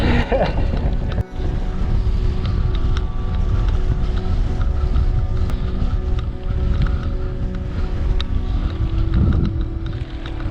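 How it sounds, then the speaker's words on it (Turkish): Strong wind in a sandstorm on open country roads near Erciyes Mountain, Kayseri, roars against the microphone in a loud, continuous buffeting rush with occasional thumps and gusts throughout. "Rüzgardan başka bir şey yok."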